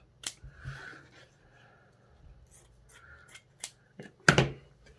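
Scissors snip the corners off polyester abaca hat-making material, giving a few short, crisp cuts spaced irregularly with light handling rustle between them, close and fairly quiet, the last cut the loudest.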